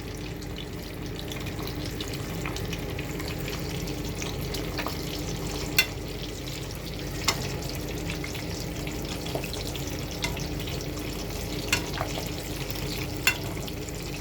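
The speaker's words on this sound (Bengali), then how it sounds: "রেডি কলার তেলের মধ্যে দিছি, ভাজা হয়ে গেলে দেখা যায় সহজে খাওয়া যাবে" Raw banana pieces frying in hot oil, a steady soft sizzle with occasional sharp pops and clicks, close and continuous without talk.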